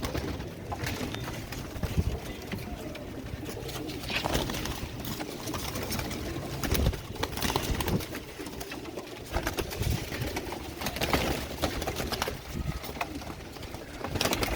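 About 54 pigeons, including young ones, cooing and fluttering in a close, crowded group, a steady dense murmur of soft coos with occasional wing flaps and rustling.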